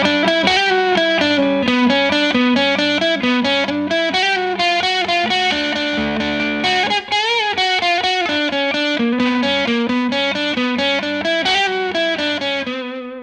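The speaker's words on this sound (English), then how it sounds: "Someone accused me of never playing with any kind of distortion" Distorted electric ukulele, a Flight Pioneer, playing a fast, bright strummed riff, loud and sustained, ringing out at the end.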